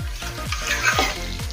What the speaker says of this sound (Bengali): আলুটা কষিয়ে নেব।